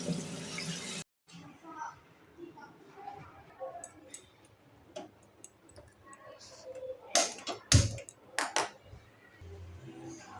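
Potatoes washed by hand in water give soft sloshing and splashing, with a few sharper clatters of a bowl, quiet and close, and a voice talks over the sound.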